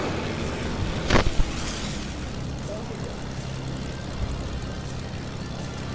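A propeller airplane flying in Fortnite drones steadily, with a short burst of louder thumps early on before the engine hum settles back.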